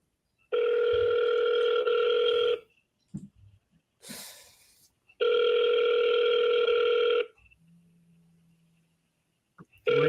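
A phone line rings out during an outgoing call to a real estate seller, two long loud ringback tones separated by silence, with brief handling noise and a faint breath between them.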